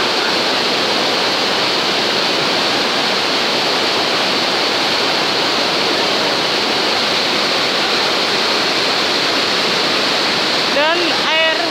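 A large waterfall gushes out from beneath rocks in Turkey, a loud, steady broadband roar of rushing water filling the whole stretch, with a brief burst of a voice near the end.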